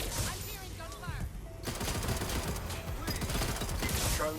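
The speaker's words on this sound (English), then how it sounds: "I'm hearing gunfire." Dense rapid gunfire from the video game Watch Dogs: Legion, bursts of automatic shots rattling continuously over a noisy battle background, loud throughout.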